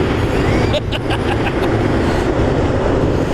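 A train rumbles steadily past close by along the Susquehanna River, its wheels clacking in a quick run of beats over a loud, constant roar.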